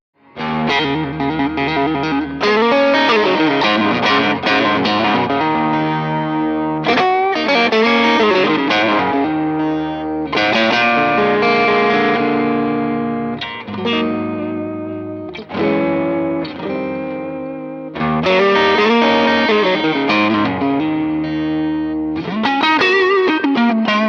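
A loud electric guitar plays through a programmable overdrive pedal with crunchy overdrive, with chords and riffs that ring out in sustained phrases and brief pauses between passages, with no talking.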